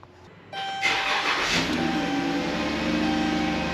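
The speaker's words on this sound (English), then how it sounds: "So we'll go ahead and start it and wait for this thermostat to open up." A 2014 Dodge Grand Caravan engine starting: a short cranking whir, then the engine catching with a loud surge and settling into a steady idle, close and alone.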